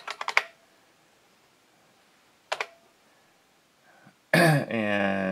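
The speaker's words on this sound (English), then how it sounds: "So I type colon lock, and then I type 5 down" Keys are typed on a DEC VT510 terminal keyboard in two short clusters of crisp clicks with a quiet gap between them, then a loud, sustained tonal burst takes over.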